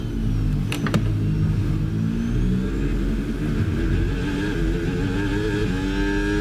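Formula 1 cars at Spa's Eau Rouge in the F1 26 game, engines whining and rising in pitch as they pass, a steady loud roar of several cars close together with a couple of sharp clicks early on.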